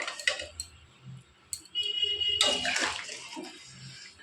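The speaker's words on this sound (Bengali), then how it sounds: "যতটা পরিমাণ ঝোল লাগবে ঠিক সেইভাবে একটু জলটা দিয়ে দিলাম।" Water poured from a vessel into a curry cooking in a pot, a short splashing gush with clinks of metal, close and brief, no talk.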